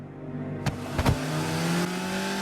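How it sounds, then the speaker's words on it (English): Car engine roaring and revving, rising with sharp bursts and a tonal whine over a steady rumble, fairly distant and alone. "The roar of an engine rings in your ears"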